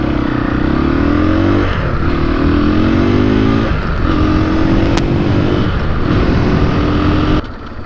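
Motorcycle engine on a street ride, a loud sustained drone with rising revs that climb, dip at gear changes and climb again, close-up and continuous with wind rush.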